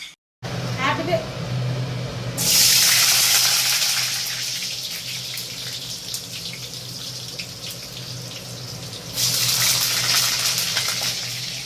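A loud, continuous hiss of hot oil crackling where water fell into it, with steady spitting that swells near the end, heard up close, with a voice talking over it.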